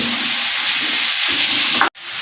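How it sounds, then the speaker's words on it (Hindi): Cauliflower frying in oil in a pan, a loud steady broadband sizzle that holds for about two seconds before cutting off abruptly with a short clatter. "इसको अच्छी तरह से बीच में फ्राई करेंगे ताकि गोभी का कलर"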